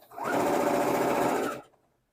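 Sewing machine running at reduced speed while stitching wool yarn onto fabric, a steady close whirring buzz for about a second and a half before it stops.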